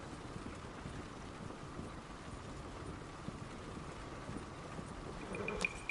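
In Red Dead Redemption 2, a horse's hooves clip-clop steadily on a road beneath a continuous broadband ambience, moderately loud, with a brief tonal chime near the end and no voices.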